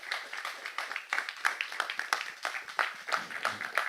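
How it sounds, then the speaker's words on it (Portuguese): Audience applause after a speech at a book launch, a steady, moderately loud patter of many hands clapping with irregular sharper claps throughout, no voices over it. "Eu acho que todas as mulheres merecem mais aplausos"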